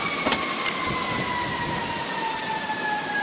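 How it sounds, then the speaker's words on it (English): Fire truck siren wailing through a hurricane, a steady drawn-out tone sliding slowly over wind and rain noise, with a few sharp knocks early on and no voices. "And here comes the fire truck."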